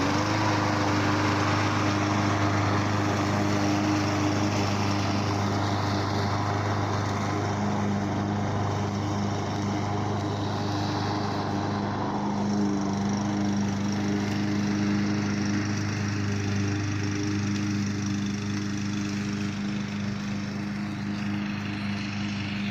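A Black Max 22-inch self-propelled lawn mower mowing grass, its engine a steady close drone with a low hum that holds even for the whole stretch, no voices.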